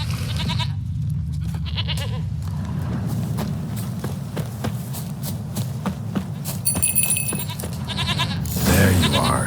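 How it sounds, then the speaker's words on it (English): A goat bleats in The Witcher 3, its calls recurring over a steady ambient bed with clopping hooves and other game sounds, fairly close and clear. "Here, goat."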